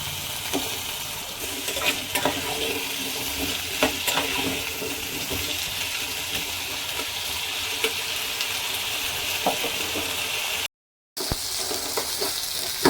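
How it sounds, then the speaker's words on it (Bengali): Potatoes seasoned with salt and turmeric fry in a pan with a steady close sizzle, broken by occasional stirring scrapes and a brief gap near the end. "আমি এবার ভেজে নেব। নুন হলুদ দিয়েছি, আলুটা কালার হবে এবং ভাজাটাও ভালো হবে।"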